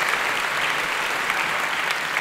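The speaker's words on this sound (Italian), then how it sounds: "A chi è l'applauso?" Steady applause from an audience, a dense wash of clapping hands that stays even and fairly loud throughout.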